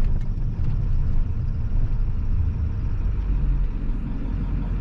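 A 7.3 Powerstroke diesel truck engine pulls away at half throttle in eco mode while towing a loaded trailer, giving a steady, loud, close low rumble that holds throughout with no talk.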